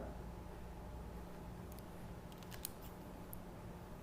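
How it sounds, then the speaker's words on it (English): Scissors slide-cutting through hair during a layering haircut, giving a few faint, crisp snips and soft metallic slides close by over a steady background hiss. "with your scissors, you're never really closing the scissors. All you're doing is slide cutting"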